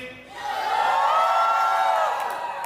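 Wedding reception guests from the bride's side cheer and whoop together as a crowd, a loud, sustained roar of mixed voices that swells and holds for a couple of seconds before easing off.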